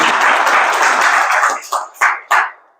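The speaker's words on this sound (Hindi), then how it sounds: "ताली बजाओ।" An audience claps at a Kangen water demonstration, a dense burst of applause that fades out in a few scattered last claps.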